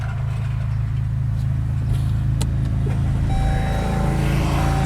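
A car engine restarts and idles in a steady, close, low rumble that continues for several seconds, with a few faint clicks over it and no talking.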